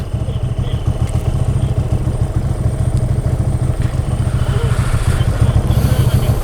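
An Aquila 300 motorcycle engine chugs steadily nearby with a low, rapid throbbing rumble and some rattling clatter throughout.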